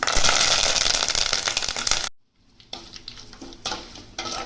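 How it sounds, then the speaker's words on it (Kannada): Curry leaves dropped into hot oil with chana dal and peanuts for vangibath give a loud crackling sizzle that cuts out abruptly, then returns quieter with a few sharp bursts. "ಚೆನ್ನಾಗಿ ಫ್ರೈ ಮಾಡ್ಕೊಳ್ಳಿ. ಈಗ ಕರಿಬೇವಿನ ಸೊಪ್ಪು ಸೇರಿಸ್ಕೊಳ್ಳೋಣ."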